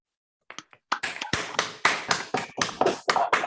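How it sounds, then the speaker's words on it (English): A few participants in an online seminar, unmuted, clap together after a short silence, building from scattered taps into a ragged, fairly close round of applause with no talking over it. "So please unmute for a round of applause."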